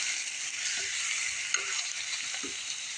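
Fresh squid sizzles steadily in a hot pan for adobong pusit, a continuous broadband frying hiss with a few soft stirring knocks.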